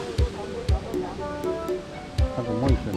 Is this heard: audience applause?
no